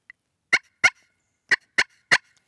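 Turkey pot call played on a ceramic surface, giving five sharp, raspy yelps in an uneven rhythm, loud and close, with no talking.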